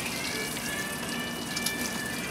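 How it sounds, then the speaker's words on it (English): Backfin crab sizzles in butter with chilies and garlic, a soft, continuous crackling hiss at close range with no voices over it. "Sizzle"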